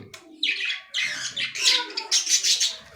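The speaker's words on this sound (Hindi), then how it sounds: "ये जो बर्ड्स की कॉलोनी और केज वगैरह मैंने रखा हुआ है" Lovebirds in a breeding cage colony chirping in quick, loud bursts of high twittering calls close by, several overlapping in irregular rhythm, with no voices.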